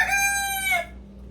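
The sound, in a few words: Brahma chickens clucking, rooster crowing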